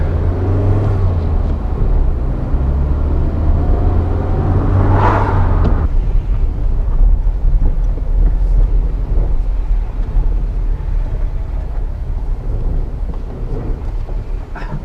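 Citroën BX with a petrol leak from its mechanical fuel pump, heard from inside as a loud, continuous low engine and road rumble that shifts in tone partway through while the car drives on.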